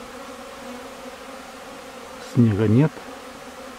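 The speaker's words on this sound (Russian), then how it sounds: "тепло, солнце пригревает, и пчелки шикарно летают." Honeybees fly around their hive on a warm, sunny February day with no snow. A single bee buzzes loudly as it passes close by, over a faint background hum, while someone speaks briefly beforehand.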